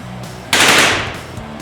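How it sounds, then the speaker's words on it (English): A sudden close burst of rapid automatic gunfire, a barrage of bullets as a sound effect, cracks in loud and then rings out and decays over about a second. "The barrage of bullets was too much for the Soul Weaver"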